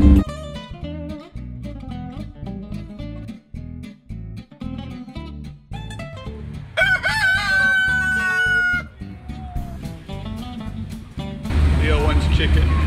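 Chickens cluck in a quick, scattered rhythm, then a rooster crows loudly and clearly nearby. Other sounds and noise are mixed in toward the end.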